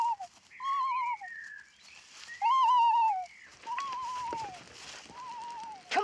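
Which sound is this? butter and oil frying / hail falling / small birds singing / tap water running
small birds singing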